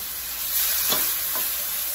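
Garlic and ginger frying in a pan for a Thai coconut chicken curry, a dense steady close sizzle with a couple of soft stirring scrapes, no voices.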